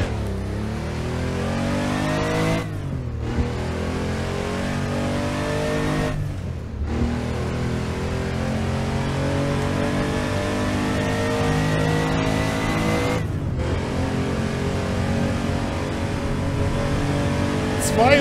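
A Porsche 911 993 Turbo in the racing game Assetto Corsa revs hard through the gears, its engine note climbing steadily and dropping sharply at each of several shifts, with someone talking over it.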